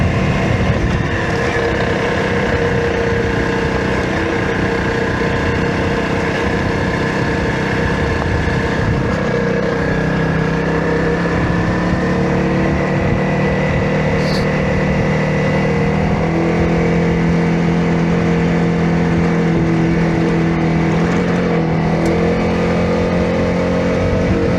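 An off-road vehicle runs along a trail in Colorado near US 550, its engine droning steadily in third gear at moderate, even revs, loud and close throughout with slight shifts in pitch and no talk.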